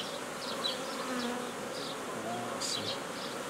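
Honeybees swarm around an open hive frame in an overwintered nucleus colony, buzzing in a steady, dense hum. Single bees whine past close by now and then, and no one speaks.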